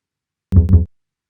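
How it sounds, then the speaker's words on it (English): Two short, deep bowed-bass notes in quick succession, low and resonant, standing alone against silence. "I'm going to be representing that with a double bass"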